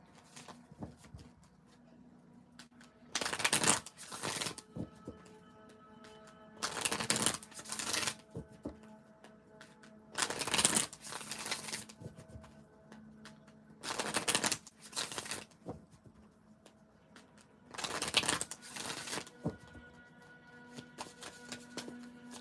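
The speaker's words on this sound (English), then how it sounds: "as I shuffle up this deck" Tarot cards are shuffled in repeated bursts of crisp riffling and patter, with quieter pauses between, close by and without talk.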